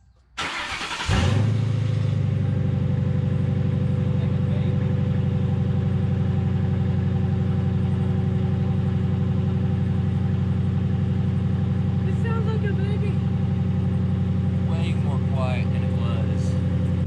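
A Ford Grand Marquis with a 4.6 V8 and its muffler deleted cranks briefly, then settles into a loud, steady, deep idle close by, with a few faint chirps and squeaks in the background.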